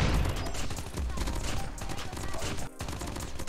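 AK117 assault rifle in COD Mobile firing sustained automatic bursts, loud and dense, with a brief gap near the end before shooting resumes.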